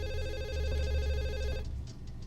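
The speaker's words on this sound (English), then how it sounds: "That's the phone." A telephone rings in a video game with a warbling electronic trill repeating steadily over a low hum, then cuts off as quieter pulses follow.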